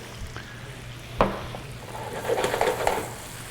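Onions and peppers sizzling in a pan while a Southern-style pork chop dish is cooked, a steady close frying hiss with a sharp clink of a utensil near the start and brief stirring scrapes toward the end.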